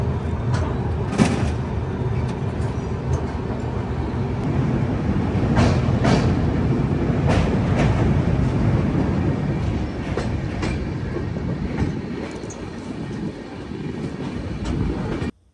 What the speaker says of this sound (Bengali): আমাদের ট্রেন পার করলো তার যাত্রাপথের নবম স্টেশন সাহারানপুর জংশন।